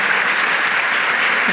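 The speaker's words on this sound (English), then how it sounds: "Can we please give Helen a large round of applause for joining us?" An evening audience at a literary conversation event breaks into loud, sustained applause, a thick even wash of many clapping hands heard close and alone, with no voices over it.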